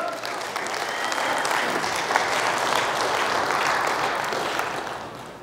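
A church congregation claps hands in a dense, sustained wave of applause that swells and then tapers off, with faint voices underneath.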